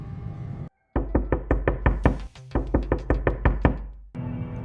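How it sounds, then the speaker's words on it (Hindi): Repeated knocking from inside a closed wardrobe, two quick runs of about eight firm knocks each separated by a brief pause, close and loud over a low droning background. "अलमारी के अंदर से दस्तक शुरू हुई।"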